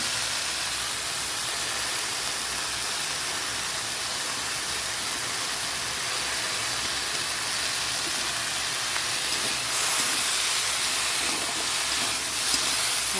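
Mustard seeds hiss and sizzle steadily in hot oil in a home kitchen, a continuous close, even frying sound that swells slightly near the end, with no talking.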